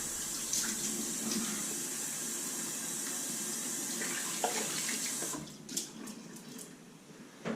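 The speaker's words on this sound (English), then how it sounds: "let's go ahead and put some cold water on now and clean the soap off the face." Cold tap water runs steadily into a sink as soap is rinsed off a freshly shaved face, a continuous close hiss that cuts off near the end, leaving a few small splashes and drips.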